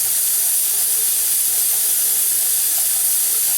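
A pressure canner processing bone broth vents steam in a loud, steady, close hiss that runs unbroken throughout; no distinct weight rattle stands out from the rushing sound.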